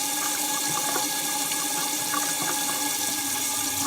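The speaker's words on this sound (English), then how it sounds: "I have to turn off the faucet." Steady water rushes continuously from a tap, a constant close hiss and splash with no pauses or voices.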